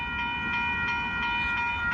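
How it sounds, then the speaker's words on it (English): An Amtrak Texas Eagle passenger train rolls past a road crossing in Austin, Texas, a close, steady rumble with a sustained tonal horn-like chord above it and faint wheel clatter. "Here comes Amtrak."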